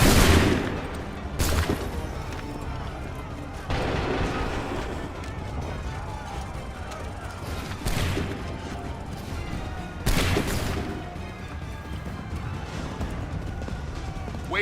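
Volleys of gunfire in the video game Assassin's Creed III: several massed musket-like bursts crack out at intervals of a few seconds, loud and sharp, with a rumble of battle and shouting voices in between.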